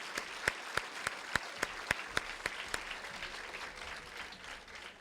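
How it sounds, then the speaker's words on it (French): Applause from an audience greeting three boys called up on stage at a school event, opening with a few sharp, distinct claps that swell into a steady patter and hold at moderate loudness. "On peut les applaudir très fort."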